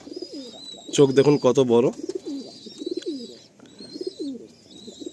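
A pair of Kalanka pigeons coo repeatedly in soft, rolling, throaty phrases close by, while someone talks over them.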